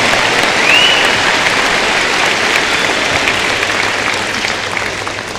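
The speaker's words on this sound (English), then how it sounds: "Let's have one big round of applause for both Gina and Abby." A large audience applauds at a high school graduation ceremony, dense steady clapping from many hands filling a big hall, loud and sustained with a brief whoop near the start, tapering slightly at the end.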